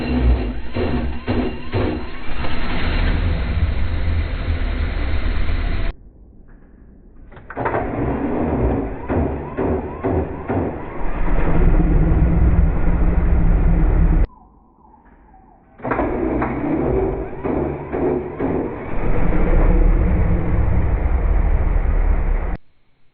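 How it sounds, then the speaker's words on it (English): A Porsche 911 engine fitted with new polyurethane engine mounts starts and idles, giving a steady, close, low mechanical drone broken by two short quiet gaps. "Let's go ahead and do a startup test and see how the engine moves with the new engine mounts"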